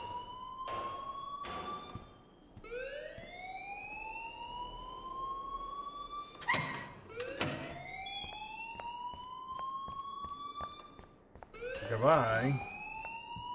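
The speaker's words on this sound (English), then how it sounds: "please turn off that alarm" Alarm in the video game Life Is Strange, heard as rising, swooping siren-like wails repeating across the scene, with brief speech and other sounds mixed in.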